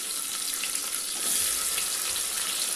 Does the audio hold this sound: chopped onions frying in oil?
yes